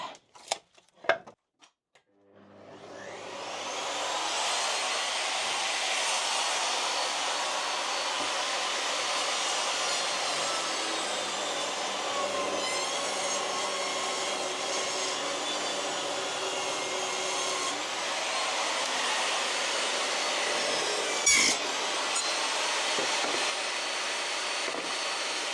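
Evolution R255 jobsite table saw spins up after a few clicks and cuts deep into wood, a loud sustained high whine with shifting tone as the blade bites, running alone.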